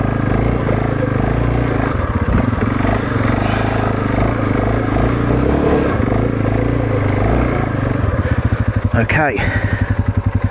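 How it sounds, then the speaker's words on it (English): Segway AT5L off-road quad engine on a steep green lane, throttle feathered as the wheels spin, a steady loud motor rumble with rising revs near the end, a brief spoken word over it. "A little bit of wheel spin there. Just feathering the throttle, giving it power when it needs it."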